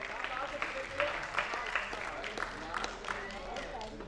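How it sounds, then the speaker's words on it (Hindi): An audience at a kavi sammelan (Hindi poetry gathering) claps to welcome poet Ashwin Pandey on stage, a moderate continuous patter of hand claps with a voice talking over it. "मैं जोरदार तालियों के बीच में बुला रहा हूं अश्विन पांडे जी को।"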